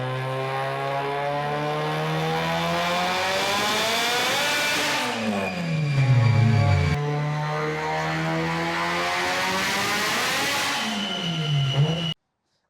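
A turbocharged engine fitted with a 6466 turbocharger revs hard on a dyno at high boost, its loud rising drone climbing through two long pulls with clutch slip, each sweep dropping sharply before building again, with no talking.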